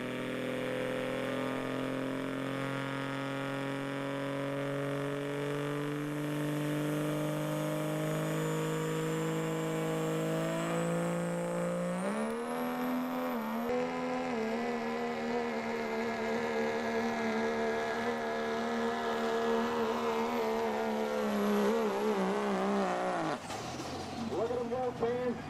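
A pulling truck's engine spools up at a truck pull, a loud sustained roar whose pitch holds steady, then climbs sharply with a whining rise before surging into a harsher, rougher full-power howl that cuts off near the end.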